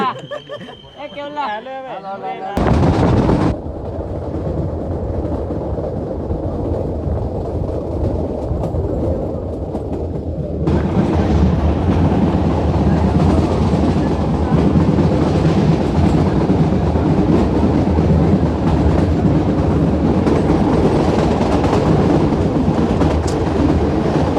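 A train bound for Jamwala in the Gir area rumbles and clatters loudly and continuously, the rolling noise growing heavier partway through as wheels rattle along the track.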